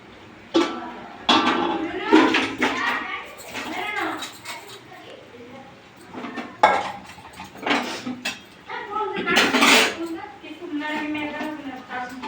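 Metal pots clank and scrape as they are shifted around while cooking two kilograms of fish curry, with a few sharp knocks amid people talking nearby.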